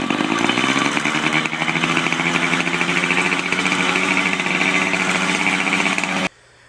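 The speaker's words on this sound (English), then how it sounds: "rev your engine, and instead of returning the idle fairly quickly" A small two-stroke dirt bike or moped engine revs loudly and steadily at high speed with a buzzing, raspy tone, then cuts off abruptly near the end.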